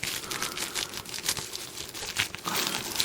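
Plastic packaging of HTC Windows Phone 8S accessories being opened: close, crisp crinkling and tearing in irregular bursts, with no talking.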